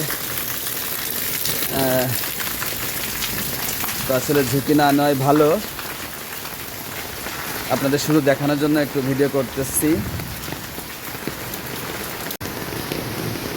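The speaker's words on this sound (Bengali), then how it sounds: "দেখুন অনেক সুন্দর বৃষ্টি পড়ছে" Heavy rain pours during a thunderstorm, a dense, steady hiss and patter that carries on throughout while a voice talks intermittently over it.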